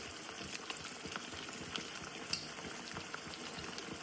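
Water at a rolling boil with apple cider vinegar added while making Kerala-style chilli beef, a quiet bubbling simmer with scattered soft pops and clicks, faint and close.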